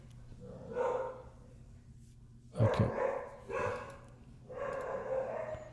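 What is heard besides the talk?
puppies barking excitedly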